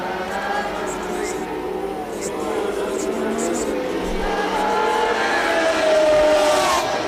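Formula 1 cars from 1981 roar past at the San Marino Grand Prix, a continuous loud engine drone that swells toward the end, with commentary running over it.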